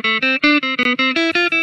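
Samsung ZamStar smart guitar playing its plain, unprocessed tone: a quick run of separate plucked notes that climb in pitch, loud and up close, with no voices.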